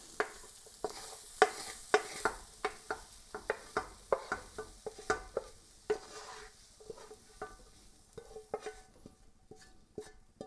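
Vegetables being stirred into a pot of clam chowder with a spoon, a steady series of scraping, sloshing strokes, fairly close and alone with no talk.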